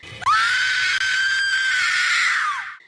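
A woman lets out a long, loud, sustained scream in a King Kong audio drama set on Skull Island, a single piercing held note lasting over two seconds that rises in and tails off at the end.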